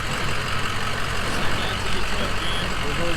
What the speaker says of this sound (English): There goes my truck.